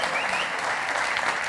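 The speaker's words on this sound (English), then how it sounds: "give yourself a round of applause" Steady, dense applause fills a large keynote hall at a software developer conference, a continuous wash of many hands clapping together throughout.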